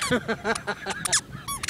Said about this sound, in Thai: รองเท้านี่เสียงดีมาก